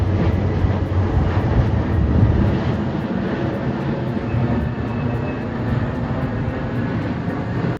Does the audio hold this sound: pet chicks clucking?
no